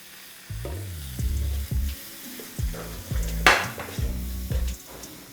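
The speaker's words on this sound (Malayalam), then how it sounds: "ഈ മസാല ഒന്ന് ചൂടാക്കിയെടുക്കാം." Masala thinned with a little water and lemon juice heats in a pan, giving a steady close sizzle and bubbling broken by repeated stirring scrapes and soft thuds, with no talking.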